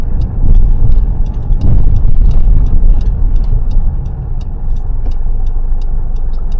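A car moves through a busy roundabout on Winter Street with a loud, constant engine and road rumble from inside the cabin and a steady rapid ticking, like an indicator, throughout.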